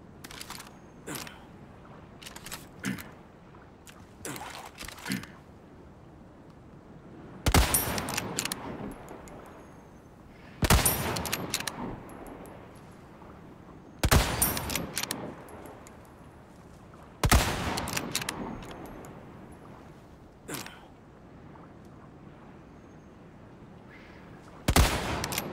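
Gunshots from Resident Evil 4 Remake gameplay, several loud sharp shots spaced a few seconds apart with quieter clicks and handling noises between them.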